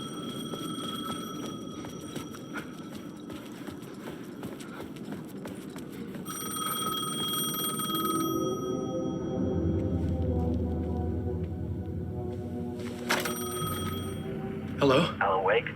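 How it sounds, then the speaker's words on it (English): Payphone ringing in Alan Wake 2, a repeating metallic bell tone that starts and stops amid ambient game sound, with a low hum and a few sharp knocks near the end. "The payphone was ringing."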